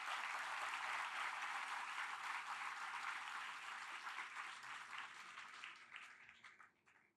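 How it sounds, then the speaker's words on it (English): A large audience at a literary festival session in Hyderabad applauds loudly and steadily, the dense wash of clapping tapering off and fading out over about seven seconds. "Would you have clapped so much"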